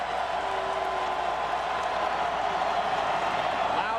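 A large football crowd at a Vanderbilt vs Tennessee game makes a dense, steady roar of cheering and noise that fills the whole stretch without a break.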